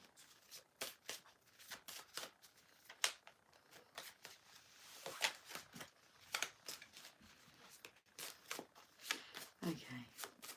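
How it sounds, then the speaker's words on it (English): Tarot cards are riffled and shuffled repeatedly, crisp snapping bursts in an uneven rhythm, close up and fairly quiet. "Give these cards a shuffle."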